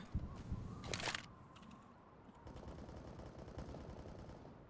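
Rapid bursts of automatic gunfire in Counter-Strike on the Nuke map, sharp and loud at first, then steadier clattering shots continuing in the background.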